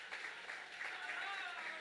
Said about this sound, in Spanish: Pues denle un aplauso al Señor por eso.